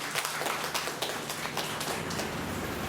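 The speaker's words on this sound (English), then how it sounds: "I think we should clap for ourselves." An audience of staff and MEd students clapping at a research orientation seminar: a steady, dense patter of many hands filling the room, moderately loud and continuous, with no talk over it.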